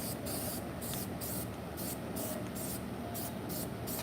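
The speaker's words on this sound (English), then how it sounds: "keep moving when you spray" Aerosol spray paint hisses onto a painting in repeated short bursts, a steady close rhythm of loud sprays with brief gaps between them.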